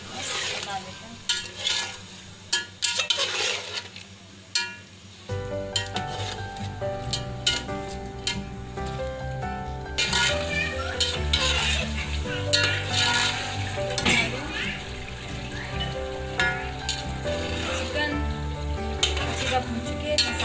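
Masala, chilli powder and tomatoes fry in a pot for chicken pulao, with loud spoon clatter and stirring at first, then a thicker, busier sizzle with ongoing scraping and pot knocks.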